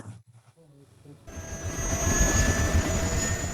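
A helicopter in the 2012 disaster film The Tower flies toward a skyscraper on Christmas Eve. After a short quieter opening with faint voices, a loud, steady rotor and engine roar swells in and holds close.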